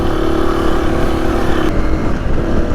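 A Husqvarna FE 250 dirt bike runs along mountain single track, its engine buzzing loud and close with a steady drone that shifts pitch partway through, under wind rush.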